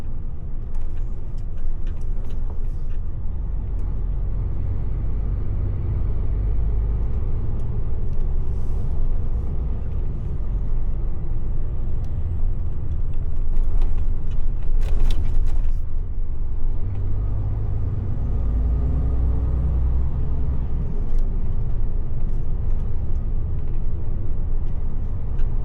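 Steady road rumble and passing traffic heard from inside a moving car on a wet evening drive, a continuous low engine and tyre drone with a brief louder swell midway, no talking.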